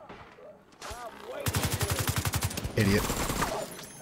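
Rapid gunfire from the video game Division 2 rattles in a steady burst through the middle of the clip, a second volley following close behind, with a voice speaking briefly over it.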